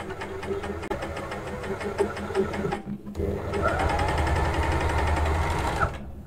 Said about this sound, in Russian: И хочу сказать, что сам оверлок довольно тихо работает.